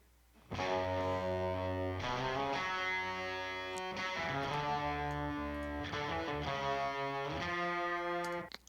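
A distorted electric guitar plays a chugging riff, its chords shifting roughly every two seconds, loud and continuous with a sudden stop.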